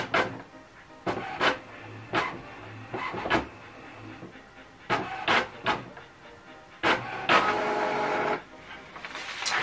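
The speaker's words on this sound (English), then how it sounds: "Okay, finish printing" An HP ENVY 4527 inkjet printer printing a quality report, with repeated short mechanical clicks, whirs and carriage movements in bursts, ending in a longer feed sound, with no talking.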